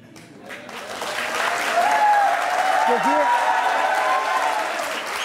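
Studio audience applause on the Aap Ki Adalat courtroom-style TV show: a steady, fairly loud wash of clapping that swells after the first second and holds, with a voice talking over it.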